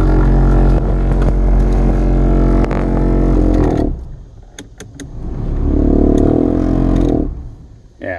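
A faulty Isuzu Trooper blower motor whirring loudly with a vibrating, buzzy drone that cuts out, leaves a few clicks, then surges back up before stopping.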